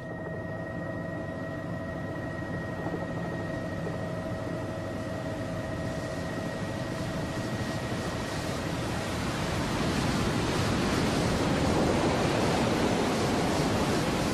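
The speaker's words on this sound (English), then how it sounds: "Plunging through the smoking water of the Tissisat Falls" The Blue Nile pours over Tissisat Falls in Ethiopia as a steady, dense roar of plunging water that swells louder in the later seconds, with a faint tonal hum beneath it in the first part.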